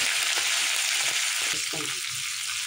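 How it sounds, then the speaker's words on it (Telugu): Cumin and curry leaves sizzle in hot oil for tomato chutney, giving a close, steady frying hiss with a few faint stirring taps. "ఇప్పుడు దీంట్లో ఫస్ట్ పెట్టేసుకుందాం. అలాగే జీలకర్ర, కరివేపాకు అలాగే"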